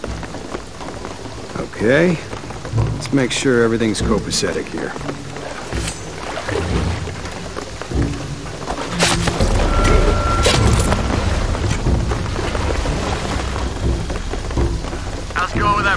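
Heavy rain pours steadily with rolling thunder in a Shadow of the Tomb Raider storm scene, loud throughout and swelling near the end, while people talk over it.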